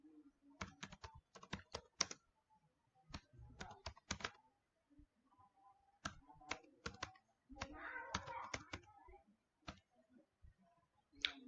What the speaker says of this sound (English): I am typing sudo